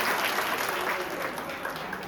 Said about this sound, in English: Start with clapping one finger